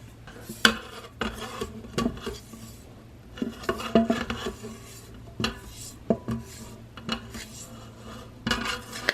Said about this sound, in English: And we have our last cup of flour to mix in.